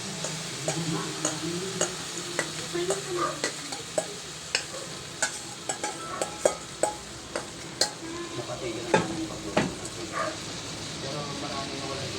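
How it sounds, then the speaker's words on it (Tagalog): Eggplant and ground meat omelette sizzling and frying in oil, a steady crackle broken by repeated scraping and stirring clicks of a utensil, with a voice speaking now and then over the cooking. "Mamaya po ay iluluto na po natin siya sa mantika"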